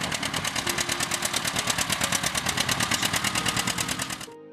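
A John Deere Model A two-cylinder tractor engine from the 1930s runs close by, with a loud, steady, even putt-putt firing rhythm that stops abruptly at the end.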